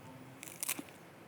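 A single crisp, close crunch as someone bites into a cabbage and perilla leaf salad with the leaves layered thickly. The bite is brief and fairly soft, with quiet surroundings.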